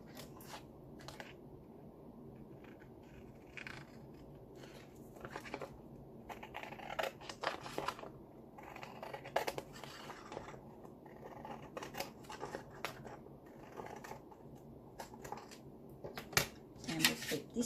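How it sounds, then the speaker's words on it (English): Scissors snip repeatedly through excess paper while trimming an ephemera book, with close, irregular cuts that sometimes come in quick runs. Low room noise and handling rustle sit underneath. "And then we can cut the excess off."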